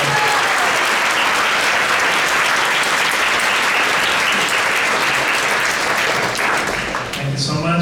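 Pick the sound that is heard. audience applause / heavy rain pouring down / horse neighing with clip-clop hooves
audience applause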